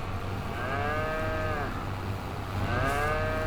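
Cattle in Farming Simulator 22 give two long, drawn-out moos, one after the other with a pause between, clear and close over a steady low hum, with no talking.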